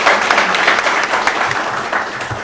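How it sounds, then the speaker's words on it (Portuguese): An audience at a theology lecture gathering breaks into steady, dense applause to welcome a speaker, the clapping close and continuous throughout. "Então eu queria que nós recebêssemos com uma salva de palmas."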